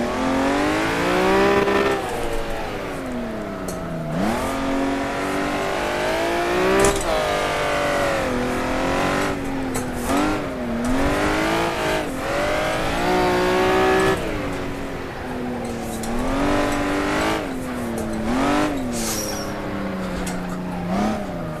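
A mid-engined 280 horsepower Honda NSX slides sideways around Buckmore kart circuit, its engine revving loud and continuous, climbing and dropping as the throttle swings through the drifts, with tyre scrub underneath.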